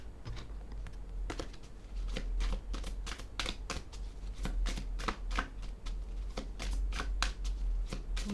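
A deck of oracle cards is shuffled by hand in a steady run of quick riffling bursts, close and fairly loud, with no talking.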